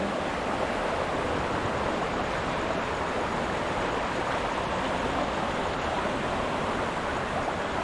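Steady, even rush of flowing stream water, continuous and moderately loud with no breaks or voices.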